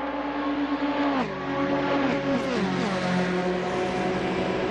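Ferrari race cars battling side by side down the Mulsanne straight in the Assetto Corsa racing game, a loud, steady engine drone whose pitch drops as one car shifts gear, with no talk over it.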